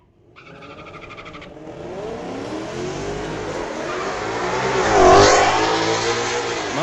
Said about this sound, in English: Mustang getting away first, but that Camaro sounds awesome